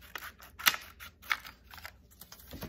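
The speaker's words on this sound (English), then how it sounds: "Take your scissors and cut it out." Scissors snip through paper in a craft activity, a handful of sharp, separate crisp cuts spaced irregularly with soft rustling between them, close and quiet.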